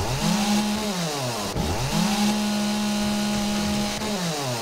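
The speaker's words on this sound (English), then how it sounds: "Now, just so you know, I rarely ever use the chainsaw." A chainsaw in the video game 7 Days to Die revs and cuts loudly in two long bursts, its engine pitch dropping and climbing, with no talk over it.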